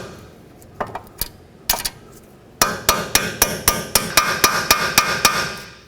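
Repeated hammer blows drive a camber adjustment bolt through the steel strut of a 2005-2010 Pontiac G6. A few separate metallic strikes come first, then a steady run of about a dozen sharp, ringing hits, close and loud, with no talking.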